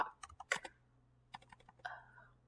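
Keys clatter on a computer keyboard in two short bursts of quick, close clicks with a brief pause between them, and a faint voice murmurs in the background.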